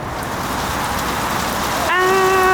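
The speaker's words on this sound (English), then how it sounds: "It finally started to rain so hard." Heavy rain pours in a dense, loud, continuous hiss; near the end a steady high tone rings out over the downpour.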